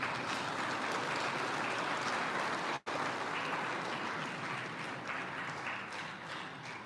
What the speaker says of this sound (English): Another round of applause for His Excellency, and our guest of honor, Honorable Minister Obamji Kashiri.